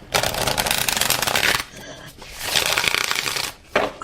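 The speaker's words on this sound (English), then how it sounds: "I'm going to go ahead and shuffle this one more time" A tarot deck gets riffled hard in two dense, crackling bursts of card flutter, loud and close, separated by a short pause and followed by a quick final snap.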